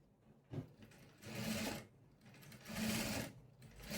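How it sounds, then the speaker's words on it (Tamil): Two sustained whirring runs come from a sewing machine stitching along the lining edge of a blouse, fairly quiet and close, split by a brief pause. "இப்போது லைனிங்கோட ஓரத்தில் தைக்க போகிறேன்."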